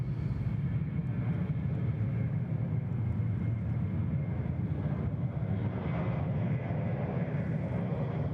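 A jet airliner roars at Sydney Airport, a steady, heavy low rumble of engines sustained without break, loud and fairly close, with no voices over it.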